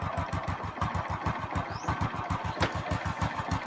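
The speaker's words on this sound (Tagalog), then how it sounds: "So pandarin din natin to kung anong issue sa makina." A Honda Click scooter engine turns over and runs with a fast, even pulsing chug at close range. It keeps a steady rhythm throughout, with a brief higher squeak partway through.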